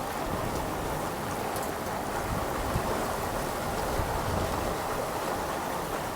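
Strong wind of about 25 knots roars steadily around a sailboat running under its mainsail on the Columbia River, a dense, unbroken rushing noise with water splashing beneath it.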